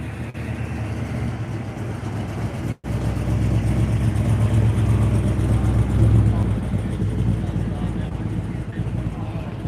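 A vintage car rolls past at an outdoor car show, its engine a steady, moderately close rumble that swells slightly as it nears, against the general crowd noise of the event.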